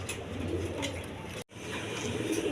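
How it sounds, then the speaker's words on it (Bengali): Several pigeons at a pigeon seller's coo steadily in a low, continuous murmur close by, with a brief dropout midway before the cooing resumes. "দেখেন তো বিভিন্ন ধরনের কবুতর আছে"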